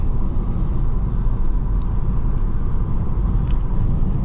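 Steady low road rumble inside a car on a late-night drive, a continuous dense hum with faint higher tire noise throughout and no talking.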